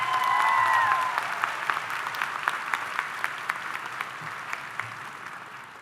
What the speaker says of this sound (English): Can we give Miss Jeanette Smith a round of applause?